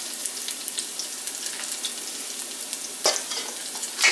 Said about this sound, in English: Now within the next few seconds, I'm going to introduce the fish to the pan.